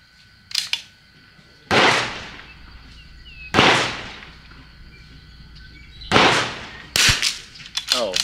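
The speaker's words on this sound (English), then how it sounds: "I'm going to shoot this far group over here just in case it is low" Several sharp rifle gunshots from a Vudoo or CZ rifle fired at a distant target, each a loud crack with a short decaying tail, spaced a couple of seconds apart, with a quick double shot near the end.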